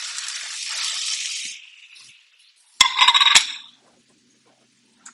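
Steak searing in a hot pan gives a bright hiss and sizzle that fades out, then a sharp clatter and a second burst of sizzling before silence.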